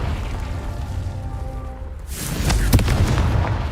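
A Confringo spell explosion in the video game Hogwarts Legacy, a deep loud boom bursting about halfway through after a quieter stretch of ambience, followed by crackling debris and a rumbling tail.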